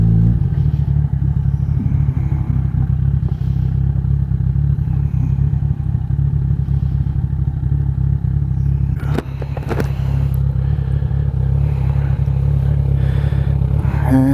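A motorcycle is ridden at steady speed with a constant loud low engine drone and road rumble, with a brief clatter partway through.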